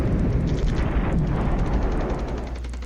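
Artillery barrage in a war video game, a dense run of heavy booming explosions that rumble together continuously for a few seconds at close range.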